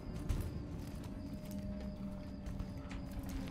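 Horse hooves clip-clopping in the video game Starshine, a steady, fairly close rhythmic trot of repeated hoof strikes over a quiet background.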